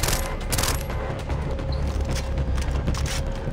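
Rapid automatic gunfire from a weapon in the video game Far Cry 3, a loud, continuous burst of close shots with mechanical clatter and no talking.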